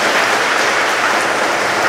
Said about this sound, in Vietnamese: Xin cho một tràng pháo tay thật lớn.